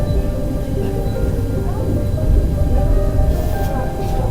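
Steady low rumble and rushing noise of a Sapsan high-speed train at about 275 km/h, heard from inside in winter between Saint Petersburg and Moscow, continuous throughout with a slight swell midway.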